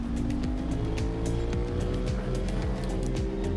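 An Aprilia RS660 motorcycle holds full throttle on the Road Atlanta race track, a loud, steady high-revving engine drone with slowly rising pitch and wind rush throughout.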